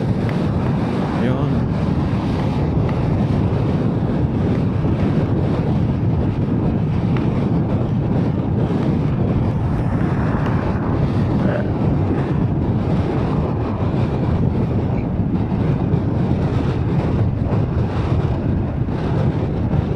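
Strong wind roars continuously across the microphone while riding a Yamaha Aerox 155 scooter, a loud, constant buffeting rush with no pauses.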